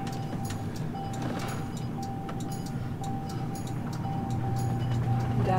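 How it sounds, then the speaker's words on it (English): Friday rush-hour traffic in Dallas makes a continuous low road rumble of passing vehicles, with a faint recurring high tone and a gradual swell in loudness toward the end. "Dallas traffic is so lovely."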